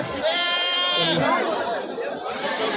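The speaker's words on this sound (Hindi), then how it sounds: "बकरा है बकरी है।" Goats bleating at a livestock market in Babarpur, Auraiya, mostly local desi breed kids and adults, with a drawn-out harmonic bleat near the start amid the steady chatter of a crowd close by.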